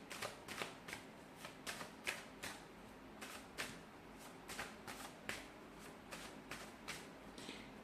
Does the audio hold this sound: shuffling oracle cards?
yes